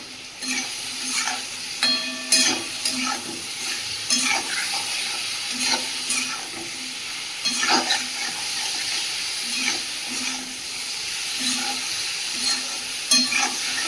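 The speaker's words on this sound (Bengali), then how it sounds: "সেদ্ধ করে রাখা আলু দিয়ে ভালো করে ভেজে নেব" Boiled potatoes frying in a pan for a curry, a steady close sizzle of oil overlaid with repeated scraping strokes of a spatula stirring, with no talking.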